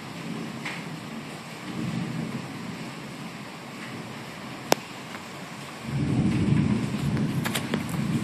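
During a thunderstorm in La Vega, thunder rumbles low and distant under a steady wash of rain, with one sharp crack midway before the rumble swells louder near the end.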